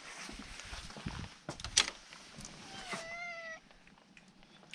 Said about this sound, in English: Oh, and I hear a meow.